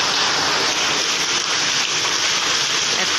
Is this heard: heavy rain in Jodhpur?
yes